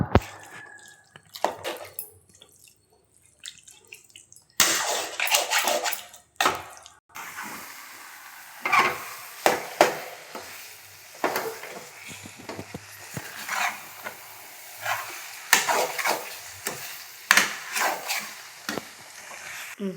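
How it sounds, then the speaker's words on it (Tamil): Chicken gravy simmering in a pan while being stirred, giving irregular wet clicks, scrapes and soft bubbling drips that come in scattered bursts with quiet gaps between them. "நல்லா கிண்டிக்கிட்டு சிம்புல சிக்கன் கொஞ்சம் நேரம் வேகட்டும்"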